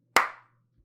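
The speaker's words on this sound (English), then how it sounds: "Clapping by myself." A single sharp hand clap from one person, close and crisp with a short fading ring in a quiet room.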